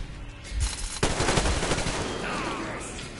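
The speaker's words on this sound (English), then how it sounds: "And he has like a machine gun." In the Metro Exodus game, an enemy juggernaut fires a machine gun at close range: a sharp crack, then dense rattling bursts of loud gunfire that fade into a lingering noisy tail.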